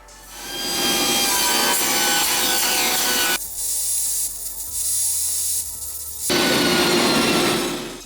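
A saw rips pallet wood boards in a workshop with a loud, steady rasping drone. The cut eases to a lower hum midway, then returns at full strength.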